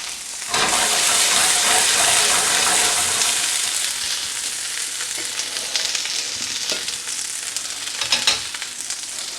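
Beef browns in a hot pan for beef bourguignon, giving a loud, steady frying sizzle that runs the whole time with occasional stirring scrapes and small pops, no voices over it.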